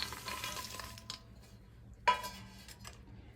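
A spoon stirs fried potato chevdo mixed with fried peanuts, cashews, fried chillies and green raisins, giving a dry rustling scrape with a sharp metallic clink partway through, close and alone.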